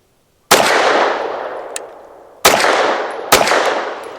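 Three sharp, loud pistol shots from a BUL Armory TAC PRO 5-inch handgun, each a hard crack with a long decaying echo, spaced unevenly and heard alone.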